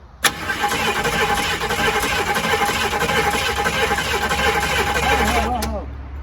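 A barn-find 1969 Ford Mustang Mach 1 that had sat for years cranks and fires, its engine running loud and steady throughout before cutting off near the end, with voices faintly over it.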